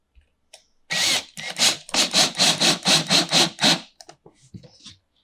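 A screw driven into a PVC vivarium rack, with a close, loud run of about nine rhythmic grinding pulses from the driver, then a few faint clicks as it stops.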